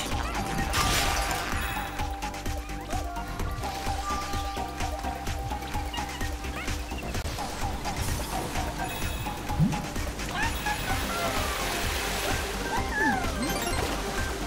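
Waterfall in the PS5 game Astro Bot: a steady, fairly loud wash of rushing water runs throughout, with a sharp game impact crash partway through and scattered electronic effect sounds near the end.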